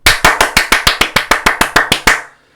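A single person claps loudly and close by during a Korean stock-market commentary stream, about a dozen sharp, evenly spaced claps in a quick steady rhythm that stop abruptly into silence.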